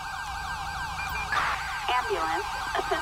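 An ambulance siren in the video game GTA V wails continuously with repeating warbling sweeps at moderate loudness, while other tones and game effects layer over it.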